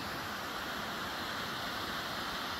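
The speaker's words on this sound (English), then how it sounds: "Got this whole hillside, nothing but one giant waterfall." A giant waterfall pours down a hillside on Finney Creek, making a steady, dense rushing roar that stays constant throughout, with no voices.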